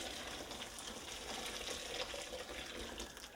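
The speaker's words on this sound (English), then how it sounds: "pour your next kettle of water in." Hot water from a kettle poured into glass jars packed with heated peaches for home canning, a steady continuous splashing fill with no pauses, close by and alone.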